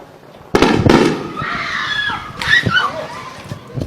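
Gunfire during fighting near Goma in the Congo: a few sharp, loud cracks at irregular intervals, with raised voices and shouting in between.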